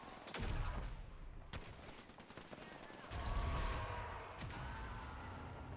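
Gunfire in the Apex Legends battle royale game, dense bursts of rapid shots with sharp cracks at intervals, loud and continuous amid game noise, with voices talking over it.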